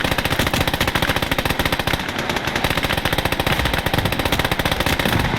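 Side-mounted tank machine guns in the World War 1 mod of Gates of Hell fire long sustained bursts, with rapid rhythmic reports close and loud and no pauses, in a game battle with French forces.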